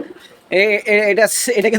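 Pigeons coo in low, throaty rolls close by while people talk over them at a busy pigeon market in Khulna, Bangladesh.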